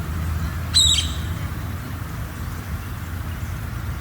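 A single brief, high chirp from a small bird rises once against a steady low rumble of background noise, with no other calls following.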